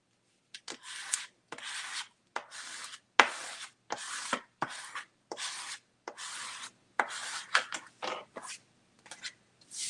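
A squeegee is dragged across a screen printing screen in a series of short scraping strokes, a dozen or more uneven rasping passes close by, with brief gaps between them.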